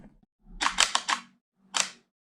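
Camera shutter taking photos: a quick burst of four close mechanical clicks followed after a short pause by one more, crisp and near, with no talk.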